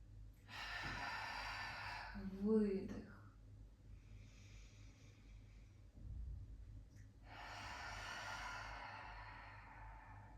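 Slow, deep breaths of a person doing a pelvic floor breathing exercise, with a long drawn-in breath early on and another steady breath near the end, close and clear in a quiet room.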